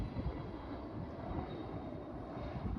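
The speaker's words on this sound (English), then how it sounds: "There's a giant jet." A large passenger jet flies over an open field, a steady broadband roar that holds evenly throughout, distant and unbroken.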